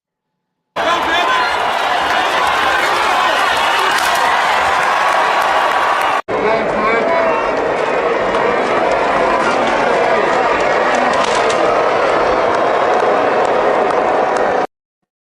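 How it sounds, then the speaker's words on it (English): A large crowd roars and cheers continuously at a men's 110-meter hurdle race, a loud, dense wash of voices and applause that runs steadily, with a brief cut partway through. "That crowd was the largest that I've ever seen."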